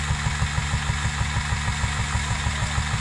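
A 1945 vintage milking machine engine idles steadily, its low, regular putting beat close and continuous with no talk over it.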